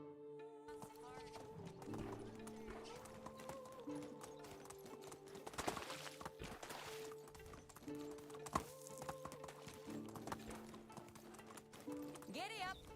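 Horse hooves clip-clopping steadily in Medieval Dynasty as a rider sets off, a continuous rhythmic trot with occasional louder thumps, under background music and some talking.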